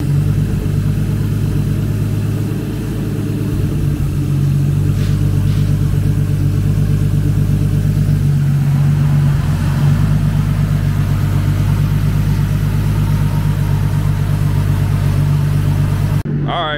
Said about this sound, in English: So it has been idling for about 30 minutes now.